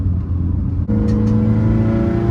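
A 2015 Subaru WRX STI with a Stage 2+ external-wastegate tune pulls hard under load, a loud, close, steady engine drone climbing in pitch after a brief dip, with no voices.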